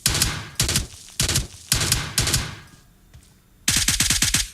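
Rapid bursts of gunfire from a PUBG Mobile match crack out in several sharp volleys, each a quick string of shots, with a brief quiet gap before a final fast rattling burst, loud and close.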